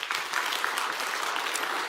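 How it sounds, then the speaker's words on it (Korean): A church congregation gives a short burst of brisk, lively applause, the crowded clapping steady and close for about two seconds. "우리 그분들 위해서 박수"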